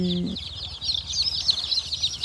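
One-day-old chicks of mixed breeds in a brooder bedded with rice husks peep in a steady, high, overlapping chatter close by, with a short voice at the very start.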